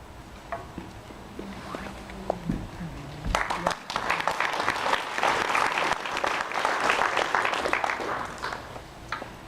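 Audience applause at a West Hills town hall meeting in November 2013 starts after some scattered sounds and quiet murmur, then swells into dense, steady clapping from a room full of people that continues to the end.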